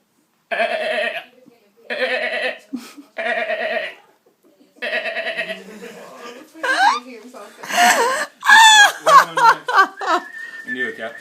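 Someone imitates a goat's bleat with three wavering, nasal calls spaced evenly, close and loud, then follows with laughter and chatter from others nearby.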